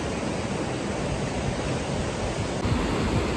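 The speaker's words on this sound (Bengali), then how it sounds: "সমুদ্র ধারে এমনিও গরমটা কমই লাগবে, কারণ বাতাস বয় তো, ওই বাতাসটা ভালো লাগে, একটা আলাদাই আওয়াজ" Sea breeze and surf at New Digha beach form a constant broadband wash, wind buffeting the microphone under a steady roar of waves, loud and unbroken, no voices.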